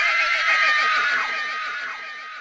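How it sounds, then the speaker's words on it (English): A shrill whinnying scream pitched between a human and a horse, rising then trailing off with a quavering tremble, loud and close over a couple of seconds, with no talk. "And it sounds somewhere in between a human and a horse."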